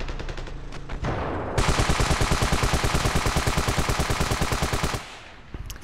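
Rapid full-auto gunfire in the video game Ravenfield: a loud, sustained burst of evenly spaced shots lasting several seconds, preceded and followed by a few single reports.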